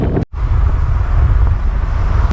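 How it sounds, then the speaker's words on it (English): Strong wind buffets the microphone in a loud, continuous low roar, briefly cutting out near the start before resuming. "It's windy, right?"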